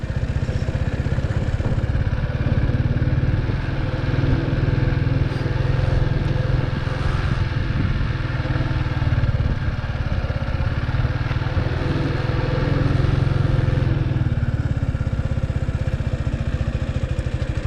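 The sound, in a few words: motorcycle engine as the bike pulls away in first gear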